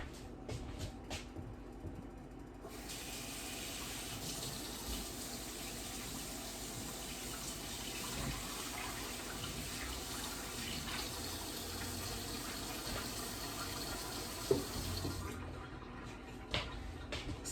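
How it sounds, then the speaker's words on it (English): Kitchen tap running steadily into a sink for hand washing while cooking meatloaf, a continuous close splashing rush that lasts over ten seconds before cutting off, with small clicks at either end. "Let me wash my hands."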